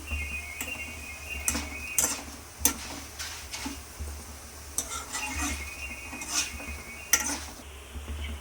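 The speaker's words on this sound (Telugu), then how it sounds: "ఇలాగ అవుతున్నాయి కదా ఫ్రై అవుతున్నాయి కదా ఇంకొంచెం అవ్వాలి" Poha mixture fries in a pan while being stirred, with faint sizzling under repeated spoon scrapes and metallic clicks against the pan, quiet and close, no talk.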